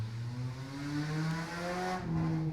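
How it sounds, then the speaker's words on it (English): Car passing along a street, a steady engine drone with shifting pitch that swells slightly toward the end, moderately close and with no talk. "That was a car."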